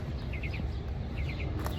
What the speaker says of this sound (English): do you hear the birds chirping?